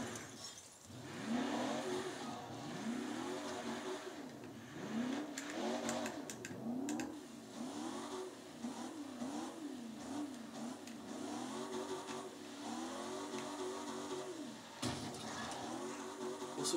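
A Cadillac Sixteen V16 Concept engine in Project Gotham Racing 4 revs and climbs through gears, its pitch rising and falling in repeated sweeps, loud and continuous throughout.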